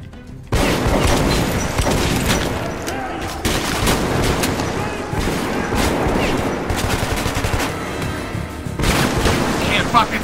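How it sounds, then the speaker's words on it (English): Loud grenade blast and bursts of gunfire in the video game Metro 2033 Redux, dense continuous explosive crackle and booms with a player voice mixed in. "No way I'm taking a fucking grenade hit."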